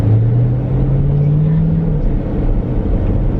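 A 2018 Jeep Trackhawk engine rumbles loudly and steadily as the SUV pulls onto a highway, its tone rising gradually through the first two seconds before settling into a constant drone.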